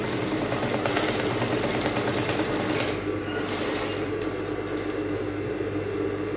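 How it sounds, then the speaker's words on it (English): A sewing machine stitches a bustier seam at a half-inch allowance, a fast continuous mechanical whir with rhythmic needle chatter, loud and close, easing slightly partway through. "You can sew it with your machine."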